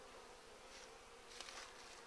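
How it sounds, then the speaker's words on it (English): Robber bees, some a darker colour, swarm a beehive, attacking the resident bees and dragging them off. A steady, faint buzzing hum of many bees continues throughout without a break. "They were the bees, they were stinging and biting and dragging off."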